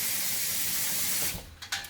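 Tap water runs in a steady hissing stream over fresh tomatoes in a kitchen sink, then breaks into uneven splashes as the fruit is moved under it.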